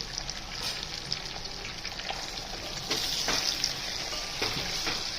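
Split brinjals sautéed in a hot pan with coriander leaves for a black-masala vegetable dish, a soft, fairly distant sizzle with occasional stirring scrapes, growing slightly louder partway through.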